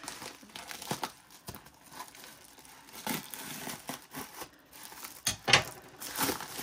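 Close plastic wrapping on a crochet craft kit crinkles and crackles in scattered bursts, with a few sharper tearing rustles near the end; quiet between handling sounds, no voices.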